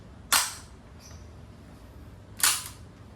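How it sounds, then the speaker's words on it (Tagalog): The bolt release on a Crosman R1 airgun rifle is pushed and the bolt snaps shut. Two crisp, close metallic snaps stand alone, about two seconds apart, against quiet background. "Then, push mo lang yung bolt release."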